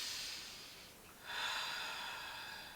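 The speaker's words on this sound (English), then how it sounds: "I'm breathing loud. I want you to be able to hear me breathing." Loud, airy breathing during a pelvic floor exercise: a long audible exhale fades, pauses briefly, then a strong breath starts again and trails off, close and without speech.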